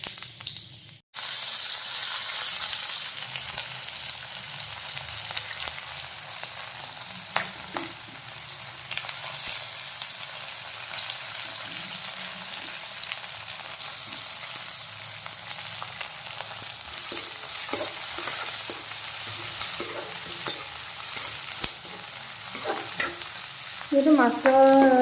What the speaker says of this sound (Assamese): তেলত এতিয়া গোটা জিৰা, মেথি গুটি কেইটামান দি দিছোঁ।